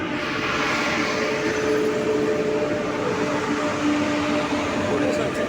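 Express train rumbling steadily up close, a continuous broadband roar with faint tonal whines running throughout and no pauses.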